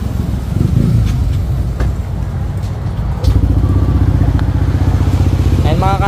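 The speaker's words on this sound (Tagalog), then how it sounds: "So after nyan, pwede na natin painitin yung motor." A Yamaha Aerox scooter engine warms up on its side stand after an oil change, idling steadily and close by, its low rumble growing fuller partway through with a faint clatter and a few brief thumps.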